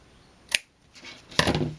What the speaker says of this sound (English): just take some scissors and I'll just cut the ends